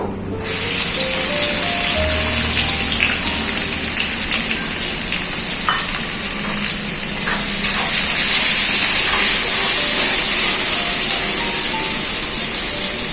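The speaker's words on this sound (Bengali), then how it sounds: "কেটে রাখা দুটো পেঁয়াজ তেলের মধ্যে দিয়ে দেবো" Two chopped onions dropped into hot oil, a loud, steady hissing sizzle that holds evenly throughout after a sudden start, with no talk.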